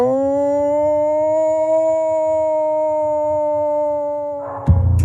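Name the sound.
alleged Bigfoot howl on Pennsylvania cassette recording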